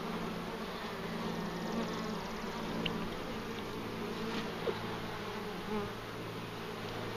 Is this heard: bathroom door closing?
no